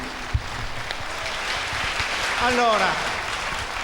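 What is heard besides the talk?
audience applause for senator Paolo Giaretta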